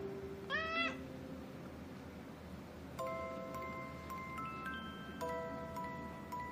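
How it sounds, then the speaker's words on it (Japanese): A cat meows in reply, first a rising meow, then a longer series of meows a few seconds later, close and fairly clear over quiet indoor background. "どうやったらこうやって返事をする猫さんになりますか"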